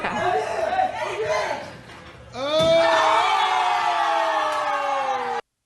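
A crowd stirs and murmurs in a played clip, a dense chatter of many voices that swells abruptly into a louder, sustained roar with a rising, siren-like wail before cutting off.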